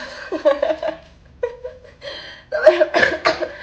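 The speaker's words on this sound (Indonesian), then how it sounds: "Jadi batuk kan." A woman coughs several times in short bursts after a swallow of alcohol, mixed with laughter-like sounds.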